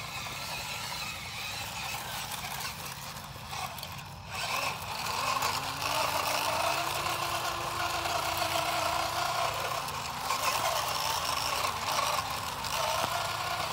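Electric motors of an LDRC dual-motor 1/12 scale Unimog RC truck running in low gear with locked diffs, a steady whirring whine that rises slightly partway through, continuous and fairly close.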